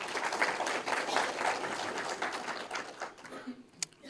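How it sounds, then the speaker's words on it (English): Applause rises from the audience at the Hardap Region State of the Region Address, a moderate crowd clapping in a brisk patter that thins after about three seconds into a few scattered claps. "Let's give them a hand of applause."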